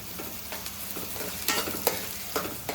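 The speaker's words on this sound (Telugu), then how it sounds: "ఉల్లిపాయలు అయితే ఇదిగోండి చక్కగా ఎర్రగా వేగిపోయినాయి కదా" Onions and curry leaves frying in a pan for a Rayalaseema goat leg curry, with a steady close sizzle and occasional louder bursts of stirring against the pan, no talk.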